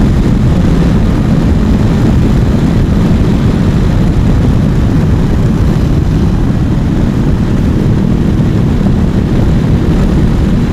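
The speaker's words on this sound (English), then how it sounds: "That is an airplane. I think that's an airplane right there." A biplane flying overhead along the coastal route near Half Moon Bay, a continuous loud low propeller-engine drone that stays steady for the whole stretch, with no voices.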